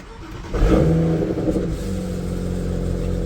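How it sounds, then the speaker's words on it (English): Cold start of a BMW E92 fitted with a turbo PCV and oil catch can: the starter catches, the engine flares up loudly in a short rev, then settles into a steady, close idle. "just a simple cold start"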